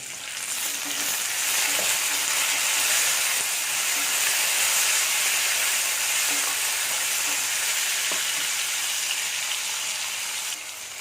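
Onion, tomato and curry leaves sauté in a pan for idli sambar, giving a steady, loud frying sizzle and hiss that runs the whole way through, with a few faint stirring clinks.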